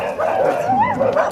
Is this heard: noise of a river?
no